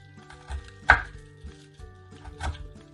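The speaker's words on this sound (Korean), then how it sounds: "대충 뭐 이렇게 잘라주세요 그냥 적당한 크기로" A knife roughly chopping vegetables into rough pieces for jjajang sauce, with about five distinct thuds on a cutting board, one sharper strike standing out, close and with no talk.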